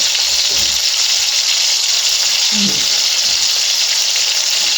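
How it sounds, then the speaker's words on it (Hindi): Malai koftas frying in a little oil in a pan, a loud, steady, dense sizzle throughout with a few soft low knocks underneath. "ये मैं कोफ्ते डाल रहा हूँ। थोड़े से ऑयल के अंदर हम इसको करेंगे फ्राई"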